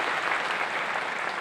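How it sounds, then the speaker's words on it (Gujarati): Many hands clap together in a steady, even, fairly soft applause from a seated audience at a public gathering, continuing without a break and with no voices rising above it. "તાળીઓથી વધાવવું જોઈએ"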